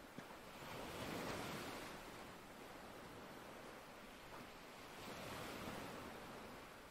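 Ocean waves crash onto a black sand beach in two broad, rolling surges, each swelling and receding into a soft, continuous wash, faint and with a breezy edge, without any voices.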